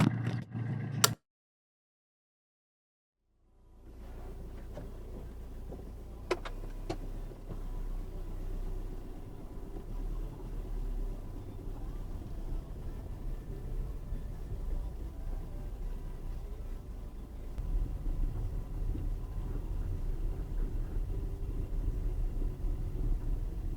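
A car towing a caravan pulls away from Braemar Campsite, a steady low engine and road rumble rising after a short silence and continuing throughout, close and fairly constant.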